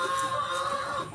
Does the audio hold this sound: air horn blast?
no